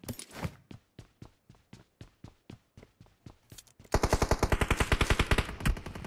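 Gunfire in the PUBG Mobile battle game: a string of sharp single shots at an even pace, then a dense rapid automatic burst for the last couple of seconds, loud and close with no voices.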